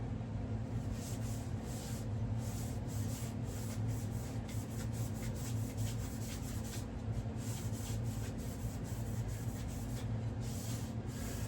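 Scotch-Brite pad scrubbing a firearm to strip oils, debris, loose paint and bluing, a steady faint rubbing and rasping that continues evenly throughout with no talking.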